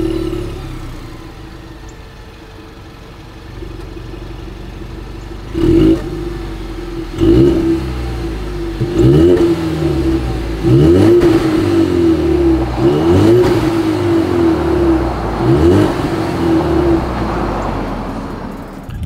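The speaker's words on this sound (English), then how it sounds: "let's just go ahead and start it up. I think you guys know what we have to do next. As always, here is that exhaust clip." A 2020 Ford Mustang EcoBoost engine starts with a sharp burst, settles into a steady idle, then revs repeatedly in rising and falling pulls through the exhaust, loud and close with no talking.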